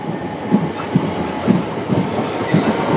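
A long train passes close through Clapham Junction station, with a steady rolling rumble and rhythmic clickety-clack of wheels over rail joints roughly every half second, loud and without talk.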